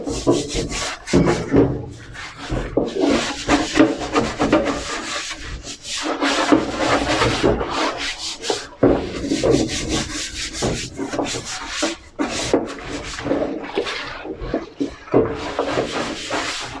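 A stiff brush scrubs a butcher's cutting board in a shop sink, steady rasping wooden strokes with an irregular rhythm, close and fairly loud, no voices.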